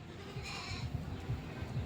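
Goats on a rural farm bleat in short, fairly close calls over steady outdoor background noise, with no talking.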